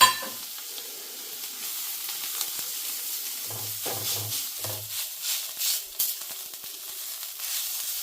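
Washed vegetable peels roasting in hot oil with turmeric in a pan give a steady, close sizzle, broken by a few soft stirring knocks. No one speaks.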